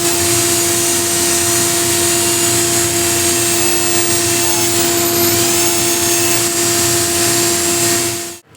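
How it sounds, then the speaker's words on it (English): A power sander sanding a hexagon plate gives a steady, loud mechanical whine with a constant drone, unbroken for about eight seconds, then cuts off abruptly at the end. "Okay, so the sanding is done."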